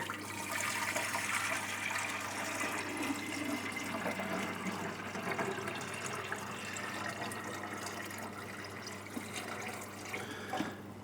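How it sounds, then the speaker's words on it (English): RO water pours in a steady, continuous stream from a jug into an aquarium sump section for several seconds, splashing softly over a low constant hum. "I've just got some RO water in a jug, and I'm just going to tip it into this section here."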